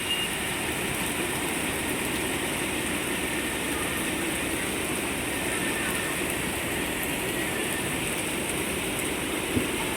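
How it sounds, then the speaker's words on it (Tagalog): Heavy black-rainstorm downpour in Hong Kong, with flooded streets, makes a steady, dense roar of rain that fills the whole stretch evenly without a break and with no one talking. "Lakas ng ulan."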